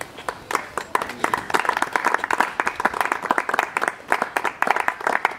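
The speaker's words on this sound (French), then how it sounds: "Et sous vos acclamations." A crowd claps in a fast, ragged patter for newly proclaimed doctors from a university's first graduating medical class. The clapping is nearby and keeps going, with a few voices faintly underneath.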